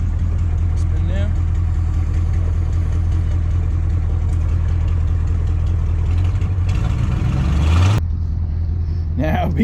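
A 1985 GMC 3500 truck idles steadily in reverse with a raised rear wheel spinning freely, a continuous low engine drone that shifts pitch near the end before dropping off, while people talk nearby.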